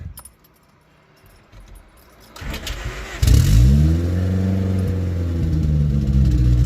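A boosted Honda Civic engine cranks over and starts after a jangle of keys, then settles into a loud, steady idle with a faint rev as it warms up, heard close up.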